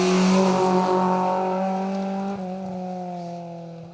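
A Rover Metro rally car on an asphalt stage blasts past close by, its engine note loud and steady, then fading slightly as it pulls away with a brief gear change near the end.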